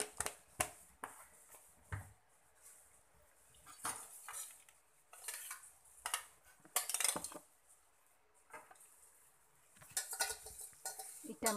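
A spoon scrapes and clanks against a pan while tomato puree is stirred into a drumstick tomato curry, in irregular bursts of metallic stirring with quiet gaps between.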